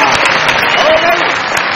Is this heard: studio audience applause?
yes